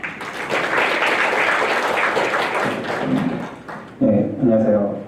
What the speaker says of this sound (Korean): 도요한 대표님께 큰 박수 부탁드립니다